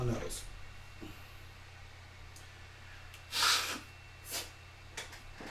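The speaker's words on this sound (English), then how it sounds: "Blow my nose." Someone blows their nose in a few short, sharp nasal bursts, the loudest near the middle, set against a steady low hum in a quiet room.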